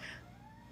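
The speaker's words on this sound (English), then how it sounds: "sorry, that was my cat." A pet cat gives one brief, faint meow indoors, a short rising-then-falling cry heard alone over a low background hum.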